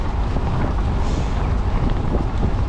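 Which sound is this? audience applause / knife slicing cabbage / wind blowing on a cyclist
wind blowing on a cyclist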